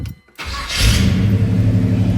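A 1970 Chevrolet Chevelle cranks briefly and fires up, settling into a loud, steady, rumbling idle close by with no one talking.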